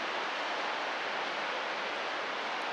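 Steady, broadband rushing of a waterfall pouring down beside a road at Arthur's Pass in New Zealand, a continuous, even wash of water with no voices.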